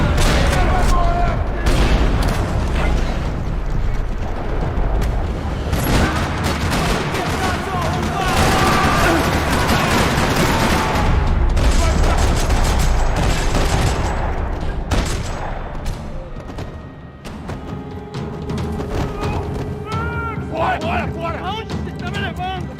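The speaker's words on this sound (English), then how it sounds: "Another parking lot rattling with gunfire." Sustained gunfire rattles across a parking lot in the video game Max Payne 3, with dense bursts and booming shots under a voice speaking.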